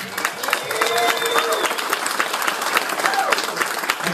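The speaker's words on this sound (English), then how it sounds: "let's hear a big round of applause for Reliable Chevrolet, though." A live audience at a Kimbo Slice event gives a dense, steady round of applause that carries on for several seconds, with a few cheers and whistles mixed in.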